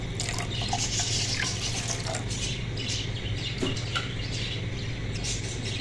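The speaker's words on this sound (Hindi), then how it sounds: "और पानी में इसमें ऐड करूँगी 3 कप" Water pours into a cooking pot from a measuring cup for a semolina and potato kabab batter, a steady close splashing flow that runs without a break over a constant low hum.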